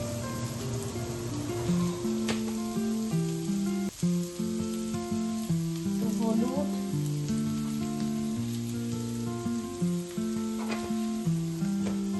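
Steady sizzle of onions and ground spices frying in hot oil, continuous and close, with a melodic tune playing over it.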